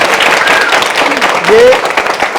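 Audience at a network marketing gathering breaks into loud, sustained applause, dense clapping filling the space with scattered shouts, a single voice rising briefly over it.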